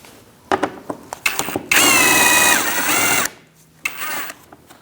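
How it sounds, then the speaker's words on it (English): A ratchet with an 8mm socket removes a bolt on a 2000-2006 Mini Cooper 1.6L during AC condenser work. Quick close clicking bursts lead into a sustained whirring run, and a few more clicks follow at the end. "Using an 8mm socket, I'm going to remove this bolt and the same one on the other side."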